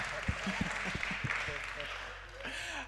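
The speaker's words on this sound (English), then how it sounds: "Let's give the Lord a hand clap of praise." A church symposium audience gives a hand clap of praise, a scattering of a few claps rising briefly under a speaking voice before fading out.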